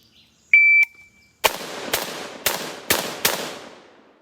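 An electronic shot-timer beep sounds alone at an outdoor range, then a PTR 91 or M4A1 rifle fires five sharp, loud, evenly spaced shots about half a second apart, each ringing out briefly with echo.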